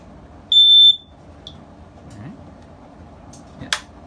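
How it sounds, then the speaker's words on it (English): One loud, high-pitched electronic beep sounds briefly from a carbon monoxide detector as its final battery is inserted, followed by a few faint clicks and quiet room noise. "it should give a nice loud beep when you put the final battery in"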